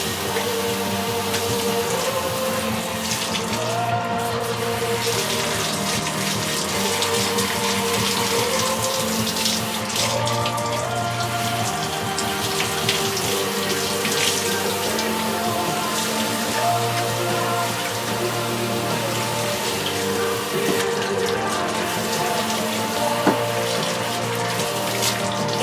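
Running tap water splashes steadily while a Bichon Frise dog is bathed at home, a continuous close hiss and patter of water on a surface that lasts throughout without talk.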